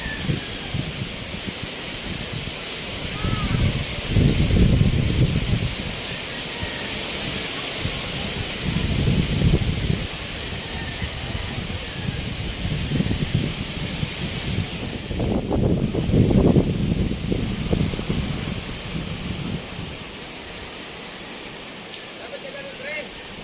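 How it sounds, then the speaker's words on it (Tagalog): Strong typhoon winds of Paeng sweep over a rural province where banana plants have been knocked down, a steady roar with gusts swelling and easing throughout, and a voice now and then under the noise. "Makusugo ng hangin na."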